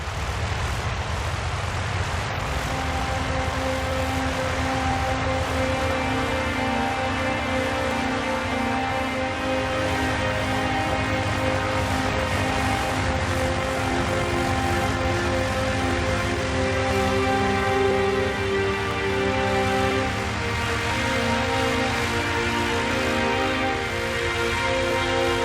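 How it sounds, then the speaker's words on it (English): A warbird airplane's engine drones on as it taxis across a lake, with the power adjusted to steer at slow speed. The piston-propeller sound is loud, steady and close for the whole stretch, and nobody speaks. "and at slow speeds, Darrell has to adjust the engine power to steer the plane."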